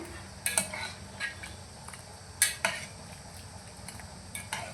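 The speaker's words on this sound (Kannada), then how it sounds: "ಇದನ್ನು ಸ್ವಲ್ಪ ಹಸಿಯೋಣ. ಹಸ್ಕೊಂಡಾಗಿದೆ." Cooked lentils for drumstick sambar are mashed in a pot with a metal utensil, giving sharp, scattered clinks and scrapes against the pot over a quiet background.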